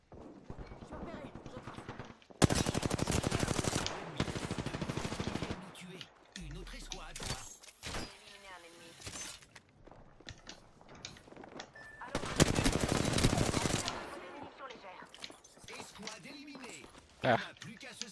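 Gunfire in the PC game Overwatch comes in rapid bursts of loud shots, separated by quieter stretches where a player talks.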